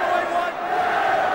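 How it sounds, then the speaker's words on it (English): Rugby test match crowd at Wales v Pacific Islands roars and chants to urge the team on, a loud continuous massed bellow filling the stadium. "Crowd urging them for at least one more score before we all go home."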